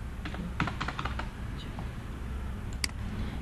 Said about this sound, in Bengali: এখানে আমরা পাসওয়ার্ড লিখবো